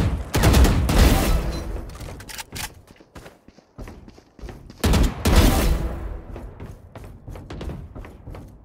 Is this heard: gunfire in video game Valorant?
yes